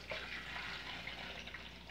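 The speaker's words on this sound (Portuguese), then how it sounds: "vamos colocar um pouquinho de água." Water poured into the reservoir of an Electrolux CM303 electric coffee maker, a quiet, steady hissing trickle lasting a couple of seconds with no talk over it.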